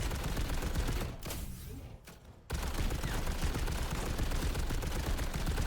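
D.Mon's cannon in Overwatch firing a sustained, dense burst of loud rapid shots that drops away briefly, then resumes as continuous heavy gunfire.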